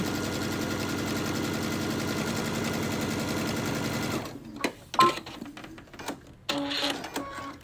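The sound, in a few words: Brother sewing machine top stitching a strap with bi-level foot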